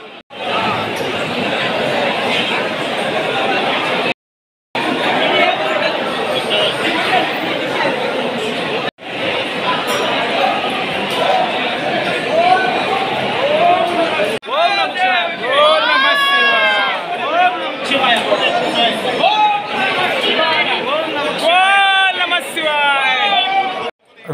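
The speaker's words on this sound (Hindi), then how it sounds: "मंदिर दर्शन करने वाले की देख सकते हैं कितनी भीड़ लगी है यार, बहुत ज़्यादा भीड़ है, हम खुद भीड़ में फंसे हुए हैं" A large, dense crowd of pilgrims at Rameswaram temple fills the space with continuous overlapping chatter and calls, loud and close, with brief dropouts and more distinct voices rising toward the end.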